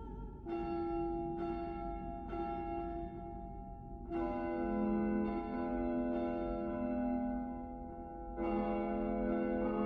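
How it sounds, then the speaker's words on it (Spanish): A huge bell tolls the evening Angelus in the game House of Da Vinci 3, with several loud, resonant strikes whose long ringing hum overlaps and decays between blows. "He oído el tañido de una campana enorme. Debe ser el Ángelus de la tarde."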